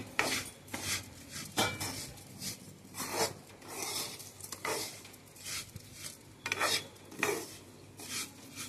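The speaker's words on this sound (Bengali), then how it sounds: "এই কাজু কিশমিশটাও আমি দিয়ে দিলাম, দিয়ে একটু নাড়ি।" A spoon scrapes and stirs rice with cashews and raisins in a pan while making pulao at home, giving repeated rhythmic scraping strokes, close and fairly quiet, with no talking.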